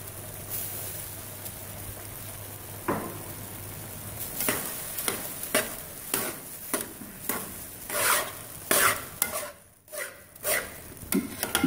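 Carrot halwa cooking down with milk, cream and sugar is stirred and fried with a spoon in a pan: quiet at first, then rhythmic scraping strokes with a soft sizzle, close by, and no one talking.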